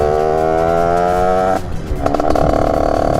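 An 86 TPF motorcycle engine revs high and loud with a steady screaming tone, then cuts back briefly and picks up again with a rougher, rising rev, close to the mic.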